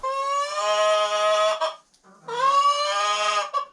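Chickens cluck and squawk loudly up close in a coop during a blizzard, two drawn-out calls separated by a brief pause, with no talking.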